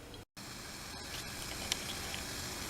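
Water boiling in a pot on a Vargo SS Hexagon stainless steel wood stove, a steady close rushing bubble with faint pops and crackles, broken by a brief cut near the start.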